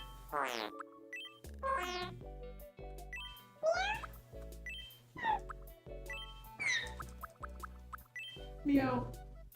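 A cat-like meowing voice from the video game Tomodachi Life repeats a series of drawn-out, wavering meows over a steady, bouncy background melody.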